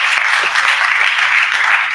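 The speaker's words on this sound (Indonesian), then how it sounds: "Berikan tepuk tangan, haleluya." Congregation applause at a worship service inside Cipinang prison in Jakarta: dense, steady clapping from many hands that fills the whole stretch at an even level, with no talk over it.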